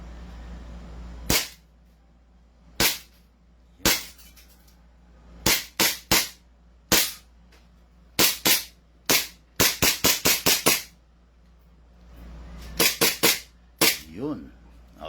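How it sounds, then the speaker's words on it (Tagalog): An airsoft 1911 pistol fires a string of sharp, loud cracks, singles and quick bursts spaced irregularly over several seconds, with quiet gaps between shots and no speech. "Okay, firing. The 1911. The Drug Lord's pistol."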